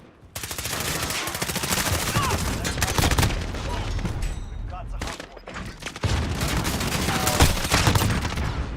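Dense video game gunfire fills the scene, with rapid machine-gun bursts and volleys of shots going almost nonstop, loud and close, briefly thinning before resuming.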